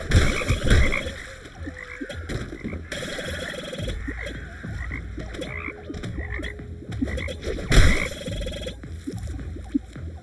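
Cartoon frogs croak repeatedly in the video game Bang On Balls Chronicles, an uneven run of throaty ribbits mixed with bouncy game effects at moderate loudness, with no talking.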